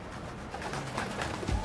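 A pigeon coos in the Spider-Man: Miles Morales game, a soft low cooing near the end over a steady city ambience, fairly faint and with no talking.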